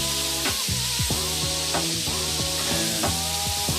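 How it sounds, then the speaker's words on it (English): Garlic and onions sizzling in a hot pan with steak and butter, a steady loud frying hiss with scraping stir sounds throughout, close up and with no talking. "Yeah, and then we're gonna add in our garlic and onions"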